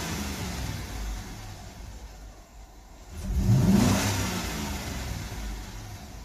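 2007 Chevy Tahoe engine idling, then revving up and holding at raised RPM before easing back slightly, heard close and fairly loud with no talking.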